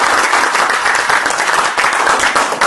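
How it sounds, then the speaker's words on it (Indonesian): Audience applause at a seminar on success and personal franchising, a dense, steady burst of many hands clapping close by, filling the whole short stretch without talk. "Tepuk tangan."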